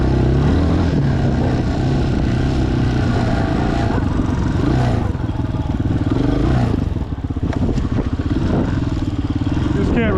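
Chinese dual sport motorcycle ridden through snow, its mid-pitched engine droning steadily and close up with rough revving and clatter throughout, and a rider's voice talking over it.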